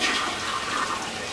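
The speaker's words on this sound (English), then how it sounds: "I will now proceed by flushing the E-Colo-Flush liner into the toilet." A toilet flushes away a colostomy bag liner, a loud rushing swirl of water that runs steadily and close throughout.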